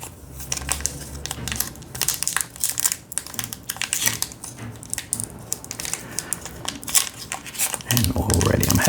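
Crinkly plastic wrapper of an Upper Deck Marvel trading card pack being torn and crumpled open by hand, a run of close, uneven crackles and rustles with brief pauses, heavier handling near the end.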